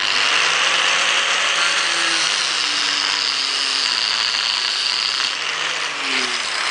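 A power tool grinds and cuts through small metal pieces in one continuous, loud, harsh whine that stays close and steady throughout, with faint pitch shifts as the blade bites.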